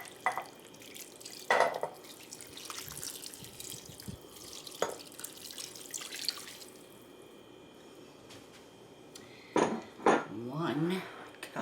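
Beef broth pours into a slow cooker for beef stroganoff, heard as liquid splashing and dripping with light clinks of dishes, mostly faint with louder bursts near the end.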